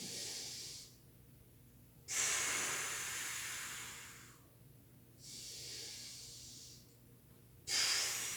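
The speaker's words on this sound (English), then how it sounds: "Deep breath in." A long, deep breath drawn in and let out during an at-home mobility stretching routine: slow, close hissing inhales and exhales repeating, with no speech.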